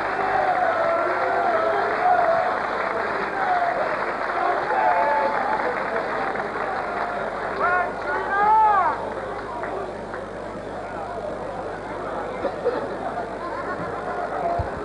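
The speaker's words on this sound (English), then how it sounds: "They really both deserve a big, big round of applause." The crowd at a women's world championship darts final applauds with sustained clapping, cheers and chatter. A whistle or call rises briefly partway through, then the applause gradually eases.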